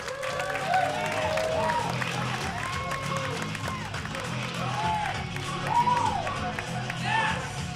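A comedy club crowd at a Halloween show applauds and cheers a young comedian taking the stage, a steady wash of clapping with whoops and calls over it throughout.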